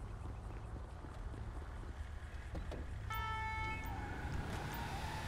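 A fire service light vehicle being parked in GTA 5, with steady engine and road noise, then from about three seconds a tonal siren or horn pattern layered over the continuing drone.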